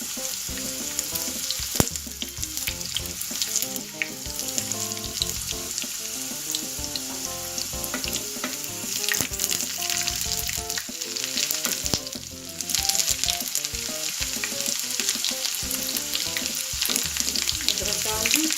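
Chilies fry in hot oil in a pan for masoor dal, sizzling loudly and continuously with crackles and the occasional stir, no talking.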